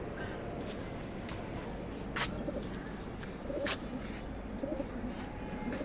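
Racing pigeons in a loft coo softly and repeatedly against a steady background hiss, with a few faint flutters and low murmurs nearby.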